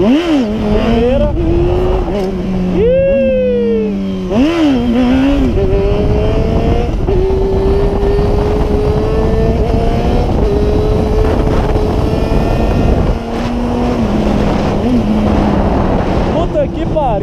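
A Yamaha FZ6N Fazer 600 motorcycle lifts into a wheelie and revs up through the gears. The loud, near engine whine rises repeatedly, with quick dips at each shift, then holds a long high drone.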